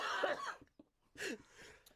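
Two short, raspy coughs, one near the start and another after a brief pause, fairly close.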